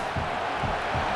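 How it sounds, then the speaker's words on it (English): Stadium crowd roaring in the College Football 27 video game during Ole Miss vs LSU, a dense sustained roar with a few rhythmic swells. "Listen to this crowd just shaking the girders of this place, trying to help their defense."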